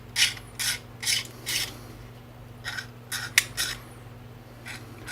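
A scraper rasps a mould line off the spear of a Hades figure from Mythic Battles: Pantheon, in a series of short, close, quiet strokes that come in uneven bursts with small pauses between them.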